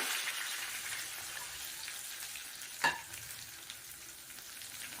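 Curry leaves dropped into hot oil while cooking ven pongal, a soft steady sizzle and crackle with one sharp pop partway through, fairly quiet and close, no voices over it.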